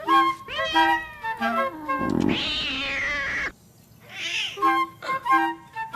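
A cat meows repeatedly in a scene from the film O Auto da Compadecida, several drawn-out, rising and falling cries with short gaps, one long strained yowl, close and clear with no talk.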